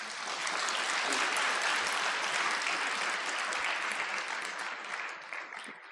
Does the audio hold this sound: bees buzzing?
no